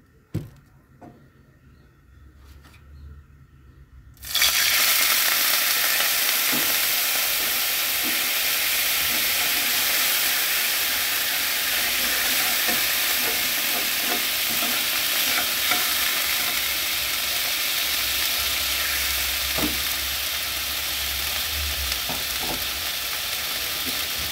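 Food hisses and sizzles loudly in hot oil in a pan, a steady dense crackle that bursts in suddenly after a quiet start and continues with occasional stirring scrapes.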